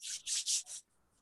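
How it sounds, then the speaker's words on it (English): Palms rubbed briskly together in a quiet room, four close, loud swishing strokes in a steady rhythm before falling silent. "Rubbing palms."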